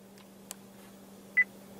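A 2015 Acura TLX voice recognition system gives a single short, clean electronic beep, quiet and close in an otherwise calm cabin with faint hum.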